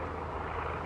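An obsolete seaplane's propeller engine drones steadily and fairly loudly, a continuous broadband roar with no break.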